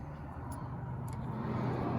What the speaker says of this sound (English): I hear a lot of car noises.